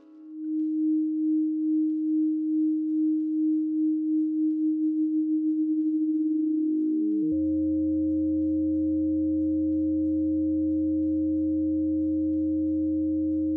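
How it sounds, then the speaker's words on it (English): A steady pure test tone pulses rapidly in volume, the wobble speeding up until it blurs into a buzzy, distorted drone with a low hum beneath. "a sine wave playing a test tone, and when volume is assigned to quickly modulate up and down"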